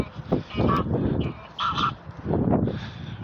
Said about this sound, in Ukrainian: Ганяє гусей, гусятник.